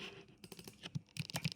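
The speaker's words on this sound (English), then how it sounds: "I'm just gonna type text" Quiet, close taps on a computer keyboard as text is entered, a short irregular run of clicks with small pauses between them.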